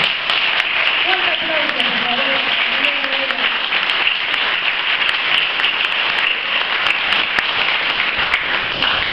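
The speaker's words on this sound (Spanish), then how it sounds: "yo le doy un aplauso para este gente" Audience applause at a tango awards ceremony, a loud, steady wash of many hands clapping throughout, with a voice speaking briefly underneath early on.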